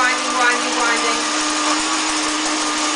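A grain mill grinds navy beans into flour with a loud, continuous high whine that holds steady at close range throughout.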